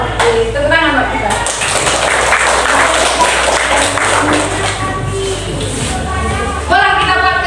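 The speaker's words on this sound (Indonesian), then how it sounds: "Oke, tepuk tangan buat kita." A class in a training session claps hands together, a ragged burst of clapping mixed with voices and shuffling, with talk heard over parts of it.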